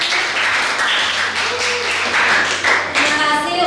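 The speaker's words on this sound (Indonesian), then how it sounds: "Oke, baik, tepuk tangan untuk kita." A group claps and applauds together, a dense patter of hands close by, with voices mixed in underneath.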